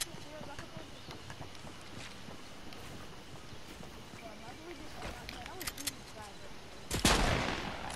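Gunfire in the video game Fortnite, a sharp burst of shots near the end that follows quieter game sounds while players talk throughout.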